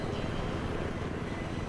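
Helicopter in the video game Battlefield 3, a steady broadband rotor and engine roar with dense low-end rumble, loud and continuous throughout without talk.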